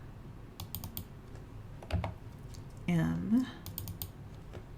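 Letters being typed on a computer keyboard, a few short clicks and taps scattered between moments of speech.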